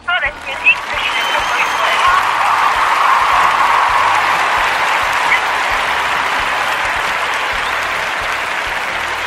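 Sustained applause from a crowd at a summertime radio or live broadcast event, loud and steady throughout after a few brief opening claps.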